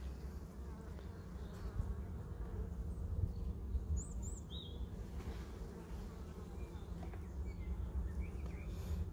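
Bees buzz around a beehive in a steady, faint, continuous hum, with a few brief bird chirps above it outdoors.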